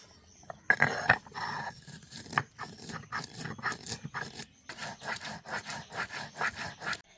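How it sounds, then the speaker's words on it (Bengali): White and black mustard seeds ground into a paste on a stone, a steady rhythmic scraping and rubbing with repeated strokes, close and fairly loud, no voices. "প্রথমে সর্ষেগুলো বেটে নেব"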